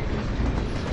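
Moving train in The Polar Express video game: a steady, dense rumble of rolling wheels and carriage noise, continuous and fairly loud, with no talk.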